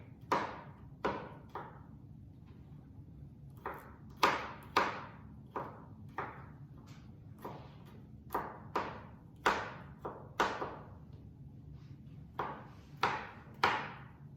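A knife chops garlic on a cutting board in a home kitchen, a steady series of crisp close taps and knocks in an irregular rhythm, with no talking.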